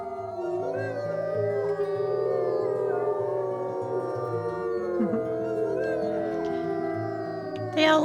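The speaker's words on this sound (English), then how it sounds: "I'll just pee and howl." A game wolf in WolfQuest howls in long, sustained, wavering tones that overlap and slide in pitch, loud and continuous throughout, with a short rustle near the end.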